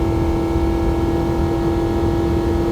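Nissan Altima engine floored at about 5,000 RPM in third gear, a steady droning hum with a strong sustained tone and constant broadband noise, no rise in pitch over the stretch, cabin-close and without talk.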